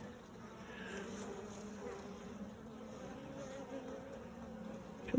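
Honeybees humming inside a hive during an inspection as a freshly emerged bee works its way out of its cell, a steady, moderately faint drone that lasts throughout, with no speech.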